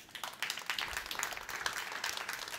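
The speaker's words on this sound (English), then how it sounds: "that is worth a round of applause." Audience applause at a talk on artificial intelligence, a moderate round of scattered clapping from a mid-sized crowd, fairly steady and slightly distant, with no speech over it.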